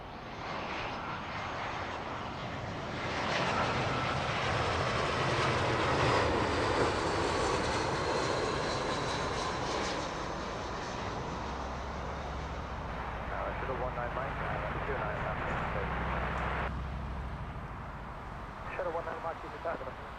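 A British Airways Airbus A380 inbound from Washington to Heathrow, its broad engine roar swelling and holding steady over twenty seconds, close and loud, with people talking over it in fine weather.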